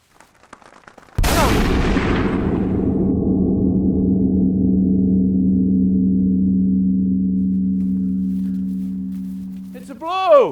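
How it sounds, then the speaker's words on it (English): A hunting shotgun fires once with a sharp, loud blast, followed by a long, low reverberating rumble that slowly fades before a brief shrill sound at the end. "That was a hell of a shot"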